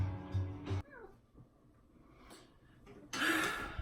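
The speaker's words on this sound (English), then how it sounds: "So here are one of my cats." A house cat meows several times at close range, a short drawn-out cry near the start and a louder, longer meow at the end, with soft breathy sounds between.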